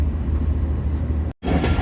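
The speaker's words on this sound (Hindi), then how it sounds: "गुजरांवाला रेलवे स्टेशन पे अप्रोच में आ रही है 14 डाउन अवाम एक्सप्रेस" Awam Express 14 Dn pulls in toward Gujranwala railway station in heavy fog, a steady low rumble of running train noise that cuts out briefly and resumes.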